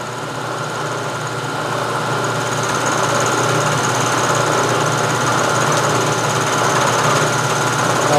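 A milling machine taking a light finish cut on the radii of a carriage stop body, with a steady loud motor drone and a fine cutting rasp that holds constant throughout, no talking.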